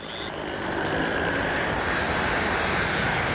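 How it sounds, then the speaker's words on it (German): A low-flying jet airliner roars overhead above the Everglades, a broad continuous engine rumble and whine that swells and holds steady. "Flug 401 donnert über ihn hinweg."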